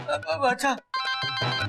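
A telephone rings in a Hindi comedy TV serial scene, its tonal ring heard under ongoing conversation between people.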